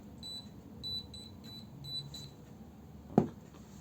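Cheap pinpointer metal detector tested with gold, sounding faint, high, short beeps in an irregular series, followed by a sharp knock near the end.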